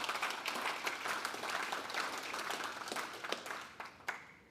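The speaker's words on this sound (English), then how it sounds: "First applause." Audience applause fills a conference hall at the end of a DConf programming talk, a dense, steady clatter of many hands that gradually thins toward the end.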